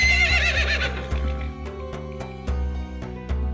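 A cartoon horse gives a loud, wavering whinny. Several sharp clip-clop hoof knocks follow at a steady pace over a low, sustained background tone.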